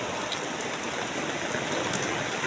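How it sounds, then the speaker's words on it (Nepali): Steady rain that has been falling since the evening patters down without a break, a dense, even hiss of drops striking the surfaces all around. "यतातिर त बेलुकादेखि पानी आएको बिहानसम्म"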